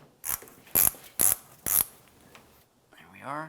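A ratchet tightens the plastic coolant drain under a Ford Flex in a few quick bursts of clicking, then a short voice is heard at the end.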